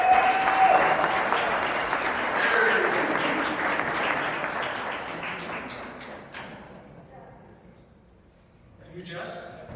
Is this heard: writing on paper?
no